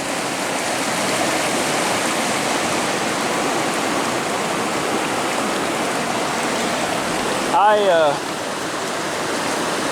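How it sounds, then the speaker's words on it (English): Hiwassee River in Tennessee flowing past its banks, a steady broad rush of moving water, loud and close, with a brief bird call near the end. "I'm on the banks of the Hiwassee River."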